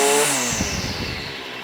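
A strimmer engine with a freshly replaced carburetor drops from a high buzzing rev into a rough, low idle, sputtering unevenly up close for a moment.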